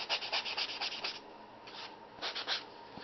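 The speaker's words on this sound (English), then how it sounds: "Sand over the top. Right over a few of these edges." Hand sanding over the top and edges of a wooden key rack gives quick rhythmic scratchy rubbing strokes, close and fairly quiet, in two short bursts.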